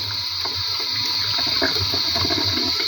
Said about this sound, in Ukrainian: відкрила воду, змиваю, тру